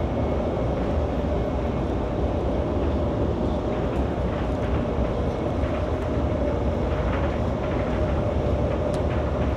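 Steady interior ride noise aboard a high-speed bullet train in China, a constant broadband roar and rumble with a faint hum, unbroken for the whole stretch and free of talk.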